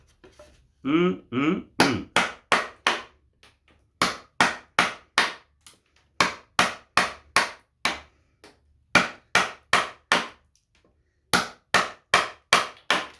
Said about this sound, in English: Love the sound of that chisel.